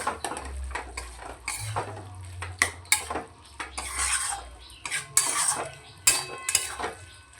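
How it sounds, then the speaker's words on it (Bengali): A vegetarian fig curry mixed in a pan over low flame, heard as irregular clanks and scrapes of a spoon against metal cookware with only a faint sizzle underneath, close by. "গ্যাসের ফ্লেমটা লোতে রেখে খুব ভালো করে মিশিয়ে নেব"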